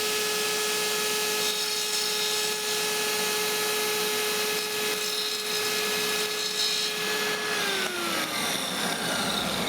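A power tool trims the end of a wood piece to final size, producing a steady loud whine with sustained tones that drop in pitch near the end as the tool spins down, close up and without talk.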